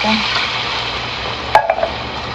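Pork ribs sizzle and fry steadily in a pan as coconut milk goes in, with a few sharp clinks of a utensil against the pan partway through.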